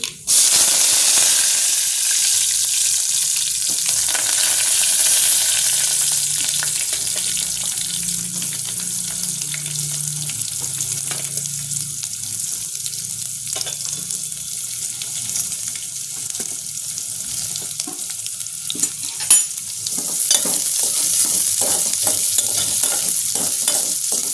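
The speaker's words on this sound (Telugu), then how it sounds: "ఇదండి తాలింపు అయితే చిటపటలాడింది" A tempering of spices sizzles and crackles steadily in hot oil for a long stretch, with scattered pops and a low hum beneath.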